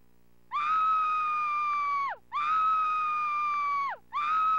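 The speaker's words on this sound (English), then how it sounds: "we can make Laura scream 3 times" Lara Croft from the Tomb Raider video game screams three times in a row, each cry a long, loud, sustained wail that ends with a falling pitch, separated by short gaps.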